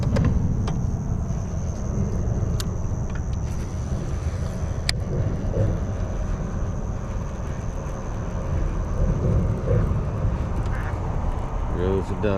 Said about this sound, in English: Goes the ducks.